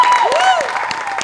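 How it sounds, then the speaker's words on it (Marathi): Audience applause at a Marathi comedy stage show, a short burst of clapping blended with a loud sweeping tonal sound effect, lasting just over a second. "तरी सुद्धा या कार्यक्रमासाठी एकदा जोरदार टाळ्या."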